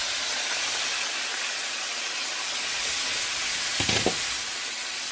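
Steady, fairly quiet sizzling hiss of food simmering in oil in a pan on a home stove, continuous throughout with a brief louder clatter near the end, no voices.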